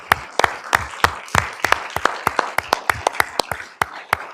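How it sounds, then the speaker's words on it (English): An audience at a Loma Linda city council meeting gives scattered applause: a small group of distinct, separate hand claps at an uneven pace, fairly close. "Let's give them a round of applause,"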